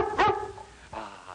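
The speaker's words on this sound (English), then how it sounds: "I want big barks." Dog barking twice, deep and close, separated by a brief pause, with background noise typical of an old 1930s film soundtrack.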